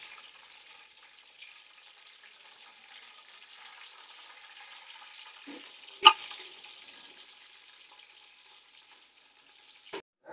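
Onions and ginger fry gently in a pan, giving a soft continuous sizzle with a faint crackle, broken by a sharp clink of a utensil in the middle and another near the end.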